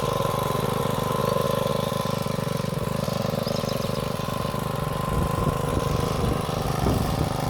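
A homemade tractor engine runs steadily at a constant, loud drone throughout while working a field being prepared for sowing in Finland.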